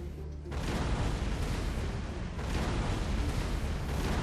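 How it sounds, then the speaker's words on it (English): A grand battery of 70 cannons bombards Gratzen in a Napoleonic-era battle, producing a dense, continuous roar of heavy booming fire that swells sharply after a quieter opening and stays loud throughout. "Davout reforms his men and sets up a grand battery of 70 guns to bombard Gratzen."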